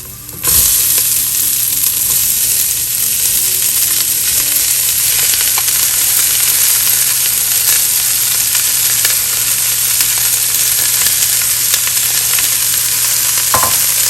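Onions fry with garlic and green chilies for an egg curry, a loud, steady hiss of hot oil sizzling without a break, with an occasional stir or clink near the start and end.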